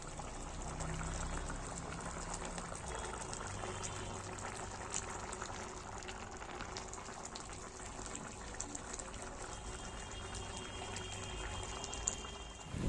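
Water poured into a pumpkin and potato curry gives a faint, steady watery rush and gentle bubbling that continues evenly, with a small knock at the very end and no voices.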